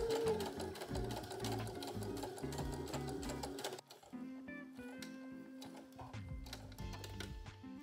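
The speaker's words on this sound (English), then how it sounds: "all we're going to do is sew next to this dart here" Home sewing machine stitching along a dart on a beginner wrap skirt, a steady rapid mechanical whir with fast needle ticks that pauses briefly near the midpoint and then resumes at a slightly lighter pace.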